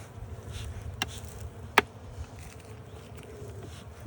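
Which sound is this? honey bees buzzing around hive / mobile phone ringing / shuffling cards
honey bees buzzing around hive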